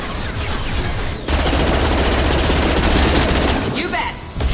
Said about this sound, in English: Taking your heavy gun.